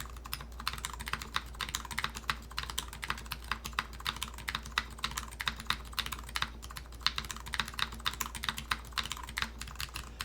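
Rapid, steady keyboard typing with crisp, dense keystrokes clattering continuously, close and clear with no voices.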